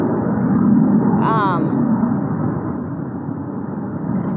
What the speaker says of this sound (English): this is a loud plane